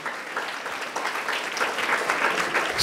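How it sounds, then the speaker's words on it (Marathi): Audience applause at a Shivaji Jayanti lecture for students and parents in Maharashtra, a steady sustained clapping of many hands that swells louder toward the end, with no talk over it. "एकदा जोरदार टाळ्या पण वाजवायत"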